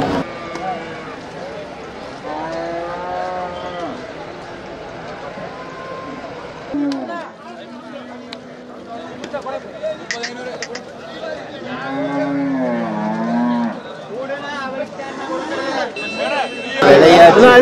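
Cattle at the Pollachi cattle market in Tamil Nadu give several drawn-out moos amid constant crowd chatter and people talking nearby, with a sharp burst of noise at the end.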